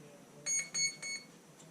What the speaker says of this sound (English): The receiver's beeping.